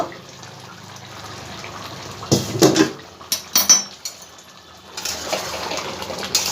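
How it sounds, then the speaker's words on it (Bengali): Lid lifted off a cooking pot of jackfruit curry on a high gas flame, a few close metallic clanks and clatters of the lid against the pot, with soft kitchen background and no talk. "ঢাকনাটা আমি এবার খুলে দেখবো"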